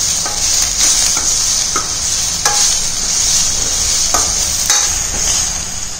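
Vegetables sauté in a pan with sambar powder, a loud close bright sizzle running throughout, broken by repeated scraping and stirring strokes of a spatula, with no talk.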